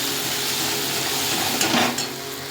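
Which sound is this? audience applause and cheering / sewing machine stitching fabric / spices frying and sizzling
spices frying and sizzling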